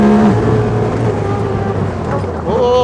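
A Polaris RZR XP side-by-side engine drones loud and close while driving, holding a steady pitch, then dipping and rising as it shifts near the end, a voice briefly speaking over it.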